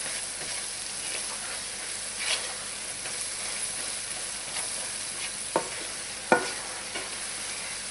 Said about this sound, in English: continually stirring